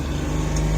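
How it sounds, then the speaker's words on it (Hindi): A car engine revs as the clutch is released during a first driving lesson, a low steady drone heard from inside the cabin, loud and brief with no talk. "क्लच छोड़ेगा, रेस देना"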